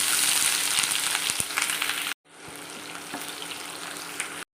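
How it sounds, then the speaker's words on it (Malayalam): Sliced onions fry in hot oil for prawn biryani, giving a constant crackling sizzle with occasional pops and stirring. The sizzle briefly cuts out, then returns slightly softer. "നമുക്ക് സവോള ഒന്ന് വറുത്തെടുക്കാം"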